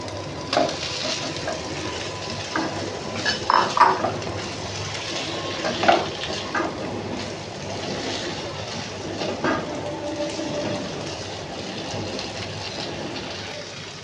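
Paneer pieces frying in oil and stirred into spice masala, a steady sizzling hiss with scattered clicks and scrapes of a spoon against the pan, close and moderately loud, with no talking.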